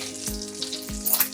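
Close, crackling sizzle of hoecake cornmeal batter spattering in a hot frying pan, with two dull low thumps under the steady hiss.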